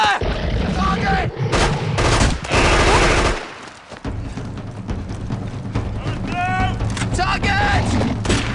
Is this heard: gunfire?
yes